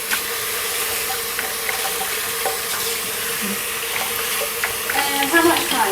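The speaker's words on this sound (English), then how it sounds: "I'll wash my hands." Tap water runs steadily into a kitchen sink during handwashing while vegan meatballs go into the oven, a continuous broadband rush with faint clinks near the end and no talk.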